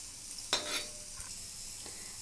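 Dry coconut roasts in a pan until brownish and is stirred with soft scraping strokes over a steady, gentle sizzle. A couple of louder scrapes stand out.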